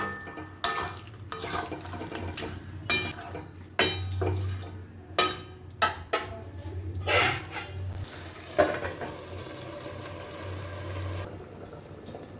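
A metal lid clatters onto a pan of chicken seasoned with black pepper, set down to cook covered for five minutes; several sharp clinks and knocks of cookware ring out in sequence over a low hum, with no talk.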